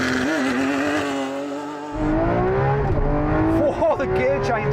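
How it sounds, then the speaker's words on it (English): A Lamborghini Aventador launches hard, its loud engine note climbing through quick gear changes and running close and sustained for the whole stretch. "Here's an Aventador launching just for good measure."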